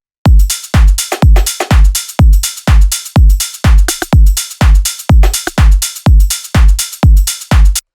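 A simple, steady drum groove with a punchy kick on every beat and bright hits on top, loud and repetitive, no voices.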